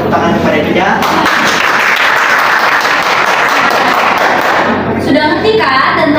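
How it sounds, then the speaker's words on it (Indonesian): Classroom applause during a micro-teaching lesson, a dense, loud wash of clapping that runs steadily for several seconds before easing, with a voice breaking through near the end. "Untuk itu mari kita berikan tepuk tangan kepada dia"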